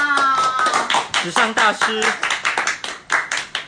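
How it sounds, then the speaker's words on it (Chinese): Several people clap in quick, uneven bursts while a voice talks over them at a lively red-carpet gathering, the sharp hand claps popping up close between and under the speech. "来点掌声！"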